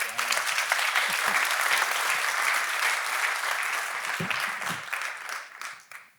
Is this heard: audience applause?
yes